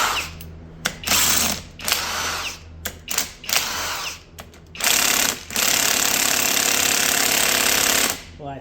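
A pneumatic impact tool hammers loose bolts on the front plate of a three-rotor Mazda 20B rotary engine being taken apart. Loud, rattling bursts come in short, stuttering pulses, then run into longer sustained runs.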